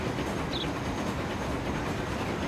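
A passenger train between St. Louis and Philadelphia in the game Transport Fever runs with a steady, full rumble of rolling wheels and faint rhythmic clatter, with no talk.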